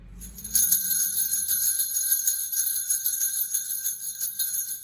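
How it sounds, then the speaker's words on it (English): Metal jingle bells strung on a length of wrapping ribbon are shaken steadily, a bright continuous tinkling and jangling held close by, heard alone after a brief soft handling sound at the start. "And I have a jingle bell."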